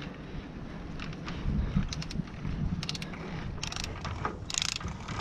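Torque wrench ratcheting while tightening a reverse-threaded brake part to 60 foot-pounds on a 1999-2004 Ford Super Duty, a series of quick metallic clicks in short bursts, close and fairly quiet over steady background hiss.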